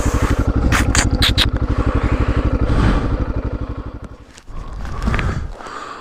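A heavily loaded motorcycle chugs along loudly and close, its engine pulsing at a steady rapid rhythm. Clattering and rattling ride on top, then the engine note dips briefly and picks back up.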